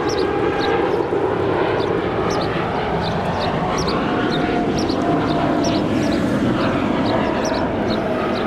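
An airliner departs Los Angeles International Airport for Oakland with a loud, sustained engine roar close by, with faint rhythmic chirps over the steady rumble.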